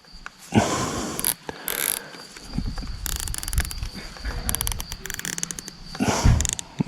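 Bolts are tightened on the rear light mount of a DUOTTS S26 electric scooter, with a series of close, small metallic clicks and ratcheting turns, irregular and fairly faint, plus brief handling rustles.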